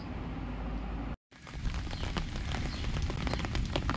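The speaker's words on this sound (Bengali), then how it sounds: "স্নান করার সময় বৃষ্টিটা হচ্ছিলো, তো ভাবলাম একটু ভিজবো" Light daytime rain falls steadily, a soft continuous patter broken by a short cut before resuming with scattered nearby drips and taps.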